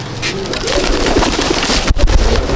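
Pigeons of a home flock, including Kamagar, Teddy, Golden and Dabwale varieties, coo in soft, steady, repeated calls that carry on continuously, near and fairly loud, with a brief sharp knock partway through.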